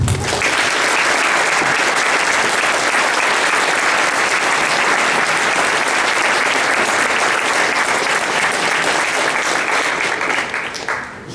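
Warm audience applause greets the debaters at a debate on identity in Quebec, loud, dense and sustained for about eleven seconds before fading out.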